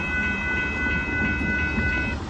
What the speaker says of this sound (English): There goes that nice Union Pacific auto boxcar train featuring Southern Pacific 6378.